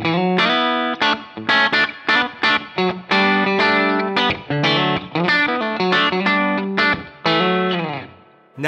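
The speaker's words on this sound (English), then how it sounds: "This is just the bridge pickup." A Stratocaster electric guitar is played through its bridge pickup alone, with effects and distortion coloring the tone: bright, choppy chords and notes in a fast, rhythmic phrase with short gaps, loud and close.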